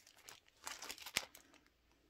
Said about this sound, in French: Le papier de riz qui va avec la collection.